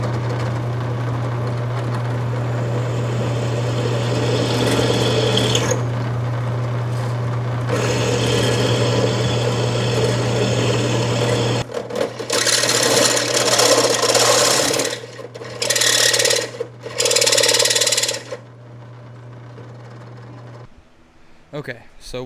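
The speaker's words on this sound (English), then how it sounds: "I'm gonna drill this last hole" Steady electric drill whine with grinding bursts as the bit cuts a hole in quarter-inch steel plate, stopping and starting in spurts over a constant low motor hum.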